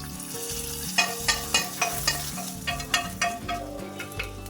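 A hot tempering of mustard seeds, shallots and curry leaves crackles and sizzles loudly as it is poured into a dry shrimp and raw mango curry. Rhythmic pops rise over background music.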